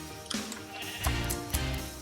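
Several sheep bleats in Minecraft, with a few short, fairly close calls spaced across a brief stretch. Game background tones run underneath and nobody speaks.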